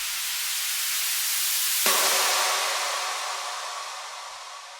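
A broad burst of synthesized noise hits sharply, then a steady hiss with a faint ringing tone lingers and slowly fades over several seconds.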